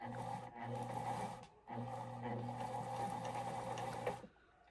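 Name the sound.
Fashion Mate 257 sewing machine winding the bobbin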